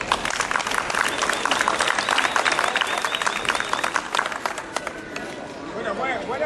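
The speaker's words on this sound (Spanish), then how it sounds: "un aplauso, por favor" An audience at a Spanish historical fencing demonstration claps together in a dense, lively burst that thins out toward the end, with some chatter mixed in.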